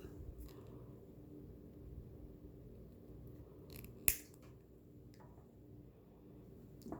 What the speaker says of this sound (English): And snip it.